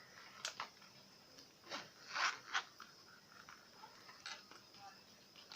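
A zipper on a feng shui wallet is pulled open in several short rasping bursts, close and fairly quiet, with a gap between the strokes.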